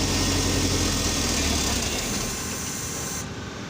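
A Mercedes S500 with a fuel pump fault cranks and runs with a loud, steady, close engine roar and hiss that eases slightly near the end; no speech is heard.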